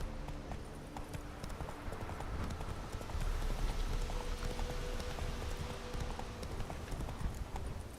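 A horse gallops in The Witcher 3, hooves pounding in a fast, steady clip-clop rhythm at moderate volume, with no one talking.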